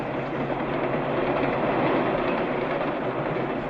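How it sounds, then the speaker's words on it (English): A subway train rolls along with a dense, steady roar and rattle, loud and continuous for a few seconds, with no voices. "The subway."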